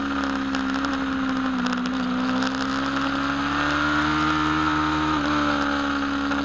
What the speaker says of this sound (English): let's just sit back and soak up the sounds of this beautiful motorcycle.